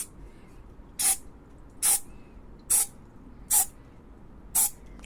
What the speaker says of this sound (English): Now shoot some carb cleaner down there,